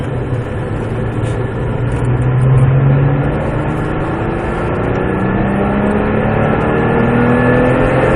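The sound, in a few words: Porsche 997 GT3 race car accelerating on track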